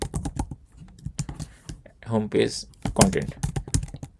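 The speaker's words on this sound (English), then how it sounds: "I'm going to type something like that" Keys on a computer keyboard clatter in quick, close taps while someone talks over them, building a page for a Hugo website.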